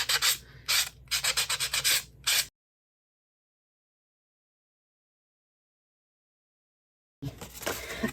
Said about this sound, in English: Very worn nail buffing block. I'm just going to take it and smooth those edges.